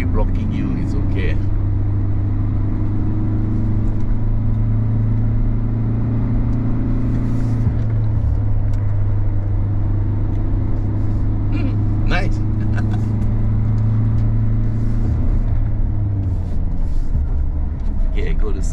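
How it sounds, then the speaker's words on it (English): A Peugeot Landtrek 4x4 pickup with a 150 HP engine climbs the Genting hill road in third gear, its engine droning steadily inside the cabin while people talk throughout. "Still in third gear, and there's enough torque to pull it up."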